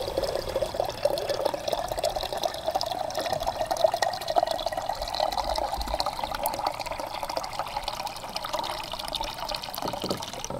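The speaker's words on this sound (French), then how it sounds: "on la remplira pas trop parce qu'éventuellement ça va se mettre à bouillir" Water pours into an Iroquoian clay cooking pot, a steady close trickle and splash running continuously for about ten seconds with no talking.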